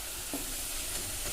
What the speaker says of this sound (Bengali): লো টু মিডিয়াম রেখে পেঁয়াজিগুলো ভেজে নেবেন